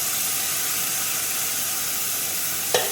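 A large tomato sautéing in hot oil with small shallots, green chilies, curry leaves and garlic paste for mutton curry, giving a continuous loud hiss and sizzle, with a brief clink near the end.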